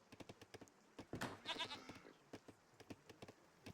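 Goats bleating in a farming video game, several short repeated calls in quick succession with a louder, longer cluster of bleats near the middle, fairly close and clear with no talk.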